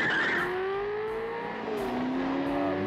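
A 1979 Porsche 928 engine revving and accelerating in a film driving scene, a loud sustained engine tone sweeping up and down in pitch.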